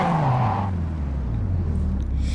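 An in-game car engine hums and whines in the Gangstar Vegas video game, a steady droning motor with a falling pitch and some road noise, fairly loud, no voices over it.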